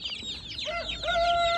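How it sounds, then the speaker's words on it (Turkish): Chickens and chicks at a Turkish poultry market cluck and peep in a busy overlapping flurry, with short high chirps and a sustained squawk rising near the end, fairly close and loud. "Civcivler var."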